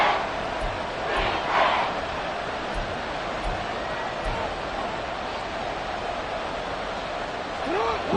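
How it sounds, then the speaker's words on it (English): A football stadium crowd at a Ravens game roars in a constant broad wash of noise that swells briefly at moments, while voices talk over it. "This crowd doing all they can."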